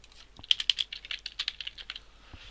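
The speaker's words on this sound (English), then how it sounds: "And then here we'll type sell." Quick, light clicks of typing on a computer keyboard, a burst of a dozen or so keystrokes close by and fairly quiet, followed by a single tap after a short pause.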